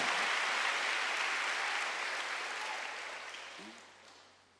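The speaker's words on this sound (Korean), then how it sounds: "빨리 박수를 하세요" A church congregation at a Wednesday worship service breaks into loud, dense applause that holds steady and then slowly fades out.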